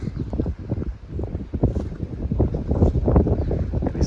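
Wind gusting and buffeting the microphone on a mountain stretch of the Appalachian Trail near Unaka Mountain, Tennessee, a steady, rough low rumble with loud surges throughout.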